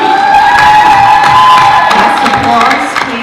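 Audience at a school district board of education meeting cheering and applauding loudly and steadily, a dense wash of claps and shouts filling the room.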